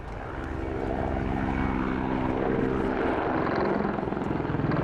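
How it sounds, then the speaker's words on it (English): A Mil Mi-24P Hind attack helicopter's engine drones steadily with a deep rotor thump at an airshow, loud and continuous, holding close for several seconds with no voices. "This extremely rugged, extremely capable battlefield helicopter with a very, very distinctive profile to it."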